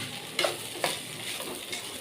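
Poha being stirred and mixed in a pan, giving a soft, steady scraping and light sizzle with two brief, sharper scrapes of the spoon against the pan, fairly close and with no talking.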